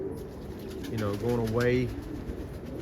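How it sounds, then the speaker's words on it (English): Pigeons or doves coo outside on a rainy morning after snowmelt, a close, clear rising call over soft background ambience, with a voice speaking briefly. "the birds, the same birds that you saw in the videos, are still here"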